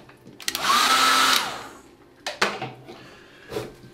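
A hair dryer used to dry a watercolour painting, switched on for a short loud, steady whirring blast of about a second, then handling clatters and knocks of tools on a table, with no voices.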